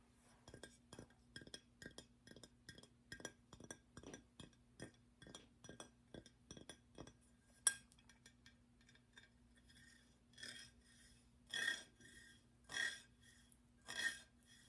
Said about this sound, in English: Not everyone likes the tippy tap of long nails